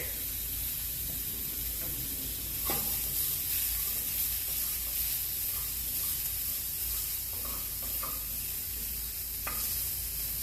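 Shallots and garlic sizzle steadily in a hot pan, a constant close frying hiss broken by a few soft clicks and stirring touches.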